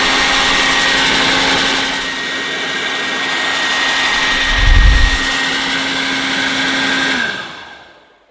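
Dirt Devil Hardy handheld vacuum cleaner running steadily up close, a loud continuous whirring drone with a steady motor whine that keeps going for about seven seconds before winding down at the end.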